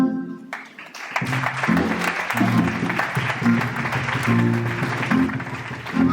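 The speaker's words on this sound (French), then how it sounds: "Monsieur Lasso, levez-vous pour qu'on vous acclame." An audience applauding a man named Monsieur Lasso as he rises to be cheered, steady clapping with some rhythmic beats and music-like tones, voices mixed in.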